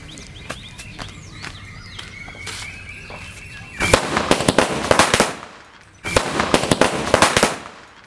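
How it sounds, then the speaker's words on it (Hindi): A long string of firecrackers pops in rapid crackling bursts, loud and close, pausing briefly before a second dense burst rattles on; faint birds chirp beforehand. "अब टेस्ट करते हैं इस पटाखों की लड़ी का और देखते हैं ये कैसी चलती है"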